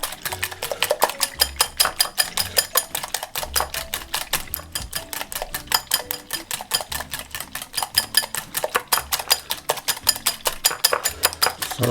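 Eggs beaten into Jamaican carrot cake batter, a fast steady rattling clatter of a whisk or beater against a bowl, continuous and close with no talk.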